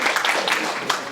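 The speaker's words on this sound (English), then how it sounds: "Can I please get a huge round of applause for our last speaker" Audience applause at a high school debate at a Muslim youth careers expo, a steady wash of many hands clapping close by for the whole short stretch.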